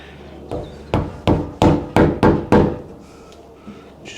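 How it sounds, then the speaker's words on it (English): A chisel is angled into wood across the grain to cut a door hinge recess, struck in seven sharp, evenly spaced knocks, close and fairly loud, followed by quieter faint taps. "I'm starting on this side and just angling the chisel a little bit, not too hard though"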